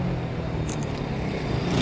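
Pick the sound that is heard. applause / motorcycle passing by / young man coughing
motorcycle passing by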